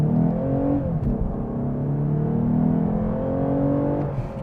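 A 2023 Lexus IS 350 with its 2GR V6 accelerates in Sport Plus mode, the engine drone climbing steadily in pitch, loud and close, without speech.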